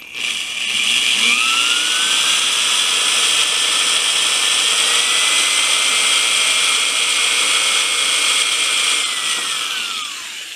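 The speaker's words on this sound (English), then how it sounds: "I'm going to drill a hole through here where I marked it" A loud, steady power drill whine drilling a hole through copper runs continuously for about ten seconds, its pitch dipping slightly near the end, with no talking.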